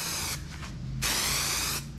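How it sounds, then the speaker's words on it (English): Bursts of aerosol spray hiss along the sides of boat trailer bunks during a bunk replacement, two long sprays with short pauses between, close and loud, with no talking. "I'm going to spray the sides as well"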